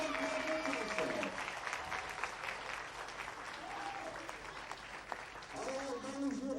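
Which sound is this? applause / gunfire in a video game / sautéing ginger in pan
applause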